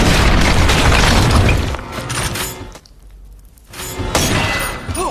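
A bomb explosion in the film Super Fast (2015): a loud booming blast with crashing, shattering debris that rumbles on, drops briefly to near quiet, then surges again with more crashing noise.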